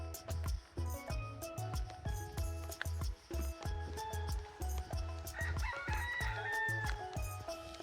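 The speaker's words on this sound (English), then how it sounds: "I guess the rooster said yes," A rooster crows loudly nearby in the Abacos, Bahamas, amid clucking hens and a busy farmyard, with repeated calls over a constant low background hum.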